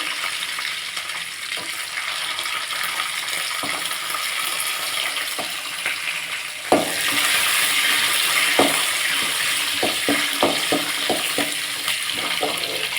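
Garlic sizzling in hot oil with curry leaves and sun-dried vadagam, for a Tamil taro root kara kuzhambu. A steady crackling fry runs throughout, swelling louder halfway through, with sharp spatula scrapes and clicks against the pan.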